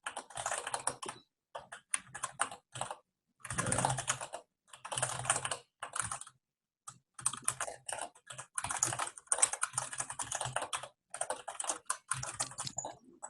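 Someone types code on a computer keyboard, with close, crisp keystrokes coming in quick bursts separated by short silent pauses, and no talking.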